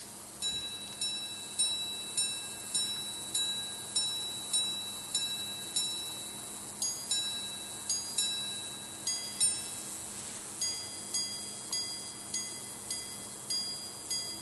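Wristwatch minute repeater chiming the time, a long sequence of small, bright metallic strikes in steady groups of tones, delicate and close, with a soft mechanical whir beneath and no talk.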